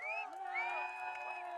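A crowd cheering and whooping, with high shouts rising over a steady roar of voices and scattered clapping, moderately loud.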